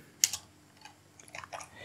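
Keys tapped on a computer keyboard, a few sharp clicks followed by a small burst of lighter keystrokes, close and quiet with no voices.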